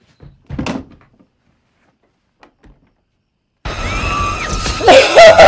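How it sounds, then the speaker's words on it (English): A closet door in the 2018 Halloween film shuts with a single short thud, followed by near silence and faint taps before a sudden loud burst of sound and screaming. "You closed the closet door."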